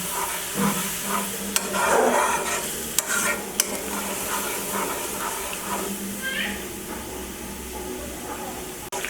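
Spice masala is stir-fried in oil with a little added water while cooking doi mogoj, giving a continuous sizzle and hiss with occasional spoon scrapes and taps against the pan.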